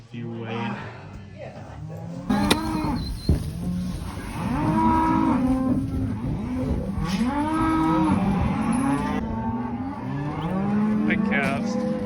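Calves on a farm during fall cattle work moo repeatedly in overlapping calls, loud and close, with a person speaking briefly over the herd.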